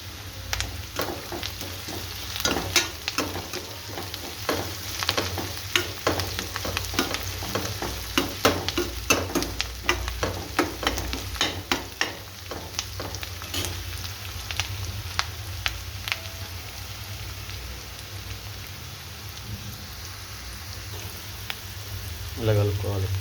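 Curry leaves and spices fry in a pan while being stirred, a steady close sizzle with frequent scraping, clattering stirring strokes that ease off toward the end, over a low hum.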